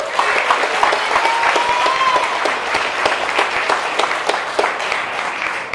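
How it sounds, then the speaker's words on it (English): Sustained audience applause at an award ceremony in a café honoring a young entrepreneur, a thick wash of many hands clapping throughout, with faint crowd voices mixed in. "Can we give him a round of applause, please?"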